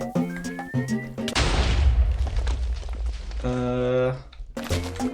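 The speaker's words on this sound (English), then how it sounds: "Oh yeah, we got a TNT cannon." A TNT cannon in Minecraft fires, giving a loud, close, rumbling blast with a long decaying roar lasting about two seconds, set between tonal game sounds and music.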